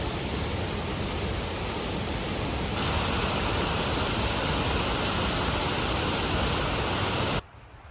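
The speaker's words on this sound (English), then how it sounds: "and that is Cane Creek Falls" Cane Creek Falls at Fall Creek Falls State Park in Southeast Tennessee roars with heavy flow after three days of rain, a dense, unbroken rush of falling water that cuts off abruptly at the end.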